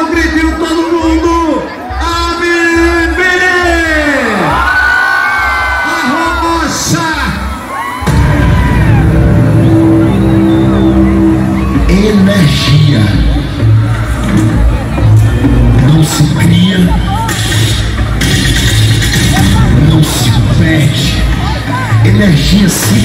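A crowd at a São João festival in Conceição, Paraíba, shouts and cheers loudly and continuously over pounding stage music, with yells and whoops rising throughout and a singer's voice occasionally heard above it.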